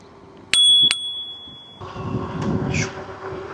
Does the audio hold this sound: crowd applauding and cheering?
no